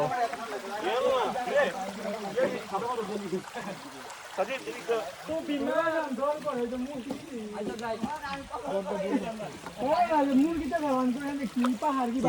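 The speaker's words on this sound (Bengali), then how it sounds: "ঝিরির শব্দ" A mountain stream near Khaiyachara waterfall in Sitakunda flows with a steady, rushing trickle, kept low beneath near-constant talking throughout.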